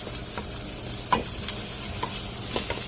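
Onion frying in hot peanut oil while fried rice with cabbage and shrimp is under way, a steady loud sizzle with a few scraping stirs on top and no speech.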